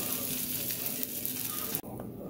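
French toast sizzles steadily in a hot pan after being flipped, a close, continuous frying hiss that softens slightly near the end.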